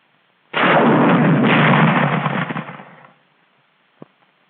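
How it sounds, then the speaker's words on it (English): M1 bazooka anti-tank rocket launcher firing in a 1943 US Army training film, a single loud, harsh whooshing blast lasting about two seconds that fades out, followed by a faint distant thud. "Let's look at this new weapon, generally called the bazooka, which plays a song of death to the enemy"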